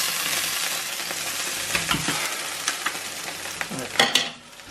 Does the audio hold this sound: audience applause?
no